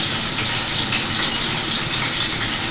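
Water pours steadily into a plate in a home kitchen, a loud continuous gushing splash that fills the whole moment without any talking.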